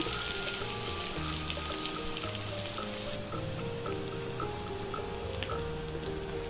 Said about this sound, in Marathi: ही मिरच्यांची पेस्ट तेलामध्ये टाकली हे सर्व तेलामध्ये छान फ्राय करून घ्यायचं आहे